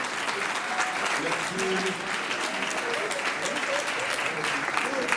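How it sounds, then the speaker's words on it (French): Steady applause from an audience at the inauguration of a hall, a dense continuous patter of clapping throughout, with a voice briefly speaking over it. "Applaudissez encore plus fort"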